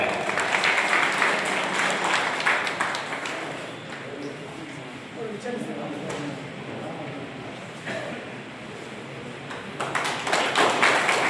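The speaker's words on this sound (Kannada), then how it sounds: "ಜೋರಾಗಿ ಎಲ್ಲರೂ ಚಪ್ಪಾಳೆ" A large audience at a public stage event applauds loudly, dense sustained clapping that swells at the start, eases in the middle and rises again near the end.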